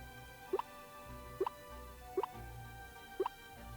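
Watering sound effect from the video game Ova Magica: four soft, bright droplet plops spaced about a second apart over a faint background hum.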